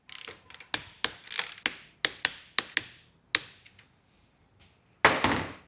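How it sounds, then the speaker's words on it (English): A torque wrench tightening the four main bar mount bolts on a Talaria Komodo electric dirt bike to 15 Nm, a series of sharp close ratcheting clicks in short irregular bursts, then a brief pause and a final louder burst. "I'm going to torque down these 4 main bar mount bolts to 15 Nm."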